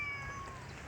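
A cat at a cat museum in Hong Kong gives a short, faint meow, close by but quiet, against a soft room hum. No talk.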